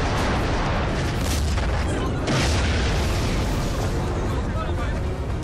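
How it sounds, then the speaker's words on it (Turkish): Artillery bombardment in a LEGO documentary of the 18 March 1915 Çanakkale naval battle, with loud continuous rumbling cannon blasts and booms that swell midway and keep going throughout. "800 top durdurak bilmeden tepeleri bombaladı."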